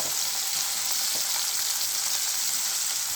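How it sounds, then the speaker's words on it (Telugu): Curry leaves and tomatoes fry in a pan, giving a steady, even sizzle throughout with no talking, close and moderately loud. "టమోటాస్ ఇవన్నీ వేసేసిన తర్వాత కొంచెం కరివేపాకు."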